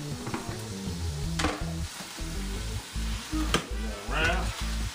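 Vegetables sizzle and fry in a pan over medium-high heat, with steady crackling broken by bursts of stirring and a few utensil scrapes, fairly close and soft.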